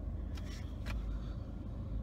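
Steady low engine and road rumble from inside a moving car, a continuous muffled drone with a couple of faint brief clicks.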